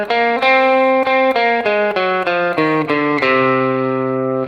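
Guitar plays a descending Aeolian flat 5 scale, the sixth mode of melodic minor, as clean single notes with a distorted, sustained tone, about a dozen evenly spaced plucks ending on a ringing low note.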